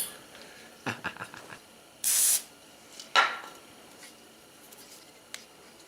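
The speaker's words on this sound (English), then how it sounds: "let's bust the myth of brake parts cleaner being flammable" An aerosol can of brake parts cleaner sprays in a garage workshop with a sharp hiss of about half a second, followed by another brief spray. Scattered clicks and handling noises come before and after against a quiet background.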